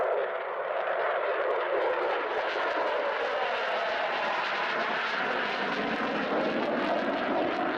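Gloster Meteor jet fighter flying a display at RAF Cosford airshow, a steady broad roaring engine whine that shifts slowly in pitch as it passes, moderately distant and continuous with no voices.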